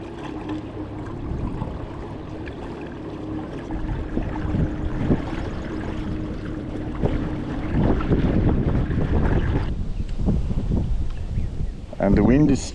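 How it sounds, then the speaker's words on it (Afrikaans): Wind gusting across open ground late in the day, a steady rushing roar with rumbling microphone buffeting that swells louder toward the end, with a voice briefly speaking over it. "And the wind is picking up."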